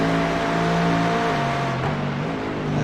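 Racing cars roar along the Grand Touring course, a loud, close engine note holding steady and then dropping in pitch as they slow toward the tightest section.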